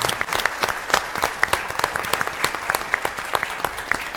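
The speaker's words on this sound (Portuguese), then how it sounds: "Eu penso que os aplausos são extensivos a todos os participantes." An audience claps steadily at the close of a conference session on money laundering and the legal profession, a dense, even round of applause heard from within the room.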